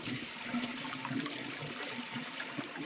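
Water pours and trickles steadily into a hot spring pool, a piped cold-water inflow near Lolo Pass in Idaho, heard as a continuous close splashing flow.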